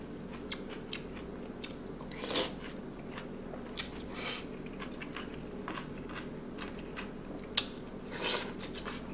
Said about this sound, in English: Let me get another bite.